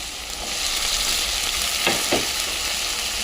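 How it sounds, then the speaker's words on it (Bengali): Potatoes added to a pan with garlic and ridge gourd, giving a steady, close hissing sizzle with a couple of brief stirring scrapes near the middle, no voices. "এবার আলুগুলো দিয়ে দেবো"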